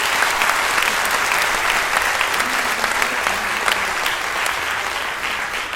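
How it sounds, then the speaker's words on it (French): Sustained applause from an audience at an evening event, dense and even clapping holding steady throughout, easing slightly toward the end, with faint voices underneath. "Alors on peut l'applaudir aussi très fortement."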